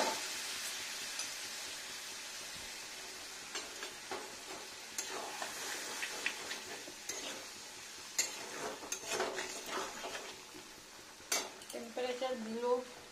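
Potato and pointed gourd curry sizzling in a pan while being stirred, with steady frying hiss, repeated scraping and clinks of a spatula against the pan, close and continuous.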